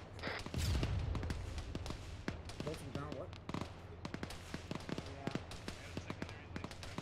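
A main battle tank fires in the distance during an ArmA 3 battle: a deep, rumbling boom early on, then scattered crackling small-arms shots and faint pops continuing at a distance.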